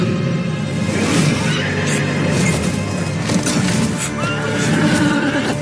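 A horse neighs loudly and continuously in a dense, busy mix, its whinny rising over rumbling background noise.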